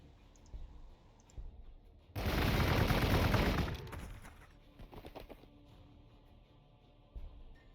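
A burst of long-range gunfire in the Warhammer 40,000: Gladius strategy game, one dense loud crackling volley lasting over a second, with softer clicks and faint effects around it.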